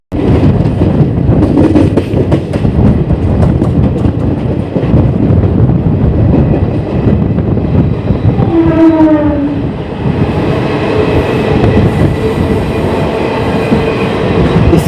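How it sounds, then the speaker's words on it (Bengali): A passenger train runs on rails at about 110 km/h, a loud, dense rush of wheel and track noise with rhythmic clatter throughout and a brief horn sounding partway through. "আর এই ট্রেন কিন্তু 110 কিলোমিটার প্রতি ঘন্টায় চলছে"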